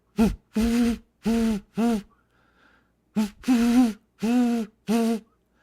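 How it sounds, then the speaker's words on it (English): A great horned owl's deep hoots, two bursts of four low, rounded calls separated by a short pause, clear and fairly close. "so a great horned owl is there somewhere in the distance"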